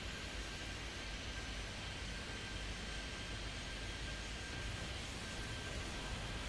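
Airplanes taking off in the video game Airport Madness 3D produce a steady, broad jet roar, moderately loud and unbroken throughout, with no voices.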